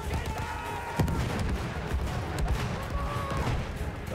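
Artillery and gunfire thump through a Battlefield 1 Rush match, with scattered heavy booms and cracks over a constant loud battlefield roar, the strongest hit near one second.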